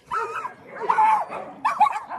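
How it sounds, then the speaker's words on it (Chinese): Several dogs at a mountain home bark and yip in short overlapping bursts close by, a few whimpering tones mixed in over just over two seconds. "黑狼带领了几只狗狗"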